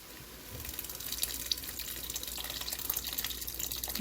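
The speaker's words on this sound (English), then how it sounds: "Guinness beer. And we're going to pour majority of the can." Guinness beer poured from a can into a vegetable mixture for an oxtail stew, a steady close liquid splash and trickle filling the bowl for several seconds with no talk.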